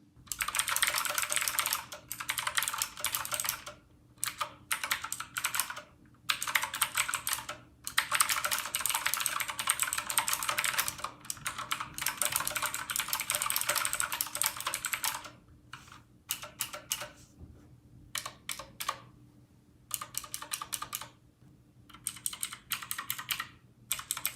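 Rapid, clicky typing on a Redragon Kumara K552 mechanical keyboard, close and steady, in bursts separated by short pauses.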